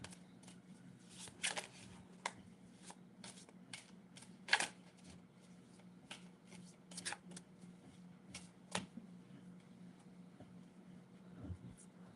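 Tarot cards being shuffled close by in a quiet room, with soft riffling bursts and sharp flicks at irregular intervals over a low steady hum.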